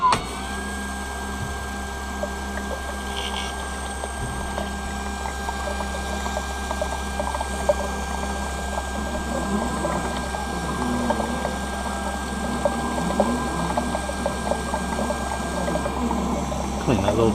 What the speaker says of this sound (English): Now it is going to bypass the cutting wheel and go straight to the bevel wheel.